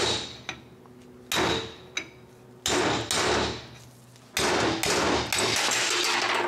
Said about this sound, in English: grab my punch, and I'm just gonna do my best to punch it on out of there